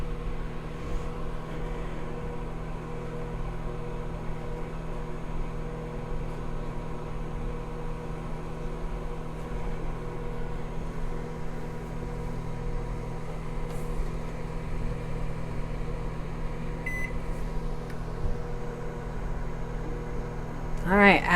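A microwave oven runs with a steady, even electrical hum while heating pieces of Ivory soap, droning unbroken for the full stretch with a few faint clicks near the end.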